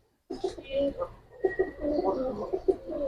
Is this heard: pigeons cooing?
yes